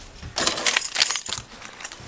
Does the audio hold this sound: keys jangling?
yes